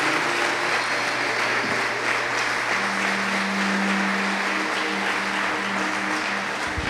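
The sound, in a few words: applause in church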